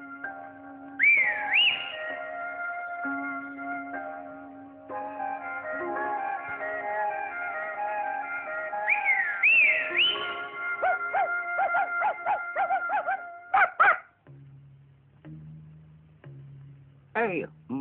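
Shepherd whistling to call sheep down from pasture, loud close melodic whistles with rising slides and rapid trills, broken by short pauses, then a couple of lower whistled notes.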